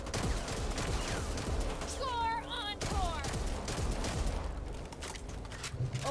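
Shotgun fire and combat in the co-op zombie shooter Back 4 Blood, with dense, overlapping bursts of gunfire running steadily through the clip alongside game effects and a few whistling tones.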